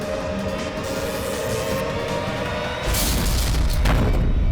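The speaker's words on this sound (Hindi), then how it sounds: "लिफ्ट में जोर से धक्का लगा" Lift jolting violently in a dark elevator in a crime drama, heard as a sudden deep boom near the end over a constant low rumble.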